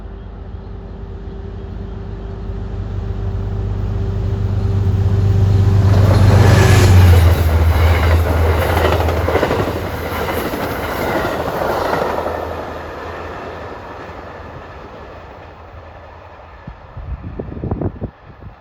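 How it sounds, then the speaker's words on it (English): Amtrak 49 Lakeshore Limited passenger train rolling past at Ardsley-on-Hudson along the Hudson River, opening with a low diesel rumble that swells into loud rushing wheel and car noise and clatter, then fades to a faint rumble with a few late clicks. "here comes Amtrak 49, the Lakeshore Limited, en route from New York to Chicago."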